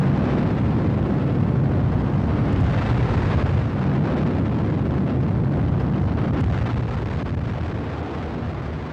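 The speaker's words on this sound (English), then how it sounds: "the exploding of a megaton nuclear bomb 248 miles above Earth" A megaton nuclear bomb detonates high above Earth, rendered as a loud, sustained, rumbling roar of broadband noise that barely varies for nine seconds and fades only slightly at the end.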